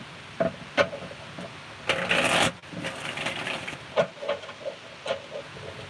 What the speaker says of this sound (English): Let's get one more shuffle for Virgo